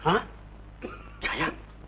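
Two harsh, throaty coughs from a nearby ill man, separated by a short pause with a faint breathy sound between them.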